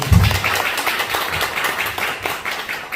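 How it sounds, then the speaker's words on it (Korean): A short burst of audience clapping during a sales strategy talk, a handful of people applauding nearby with uneven claps that thin out quickly. "박수 한번 쳐요"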